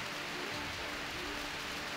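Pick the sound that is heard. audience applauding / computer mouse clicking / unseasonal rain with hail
unseasonal rain with hail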